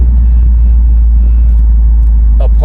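A 1969 Oldsmobile 98 with a 455 engine and newer cam driving, a heavy, steady low rumble from inside the car, loud and constant, with a faint click near the end.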